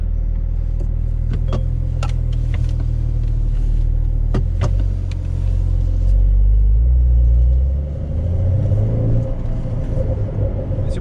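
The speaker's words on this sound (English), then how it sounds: "we have a pretty good sound inside of this car" A Porsche 992 engine rumbles steadily from inside the cabin in Sport Plus mode on an uphill run, with sharp clicks and knocks over the drone and a brief dip as the revs shift near the end.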